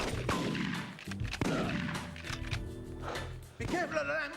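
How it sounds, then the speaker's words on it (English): Gunshots crack and boom in The Getaway on the PS2, in rapid, loud bursts over the game's background noise. A person talks over the shooting. "Please stop shooting at me."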